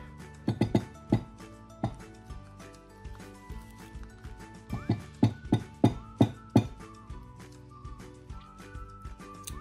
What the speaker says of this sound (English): Sorry for the banging onto the pot.